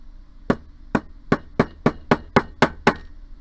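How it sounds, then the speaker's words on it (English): A rawhide mallet pounds square jewelry wire on a steel bench block: nine crisp, close blows in a fairly even rhythm, each with a short ring and nothing else around it. "just putting it on a bench block and pounding it with a rawhide mallet"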